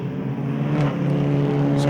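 Race cars at a Zwartkops circuit sports and saloons race, including an Alfa GTV and BMWs, drone steadily with engine hum and passing revs, loud and continuous.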